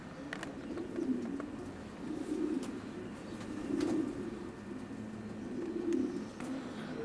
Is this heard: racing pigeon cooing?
yes